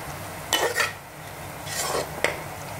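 Garlic and onion frying in a pan while being stirred, for a mutton curry; a few bursts of scraping and clattering against the pan stand out over a low, steady sizzle, with no one talking.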